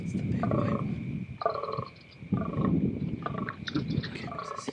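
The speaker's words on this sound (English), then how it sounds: "I heard one of the deepest, loudest croaks I have ever heard" A big white fallow deer buck croaks during the rut on a hillside about 150 yards off, giving a series of deep, loud, rasping calls in bursts separated by short pauses.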